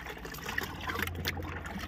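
Curd being whisked into a container of water for watering plants, a faint, busy sloshing and trickling of liquid heard up close for a couple of seconds.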